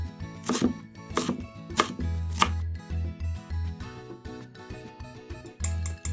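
A knife chops green onion quickly on a cutting board in a run of sharp, rhythmic knocks, some louder strikes standing out, with quiet background music.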